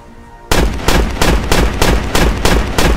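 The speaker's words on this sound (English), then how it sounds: "Oh my God, Booga, you can stop shooting." Loud, sustained gunfire rings out in a rapid run of heavy shots, with repeated bursts hammering close and steady for several seconds after a quiet start.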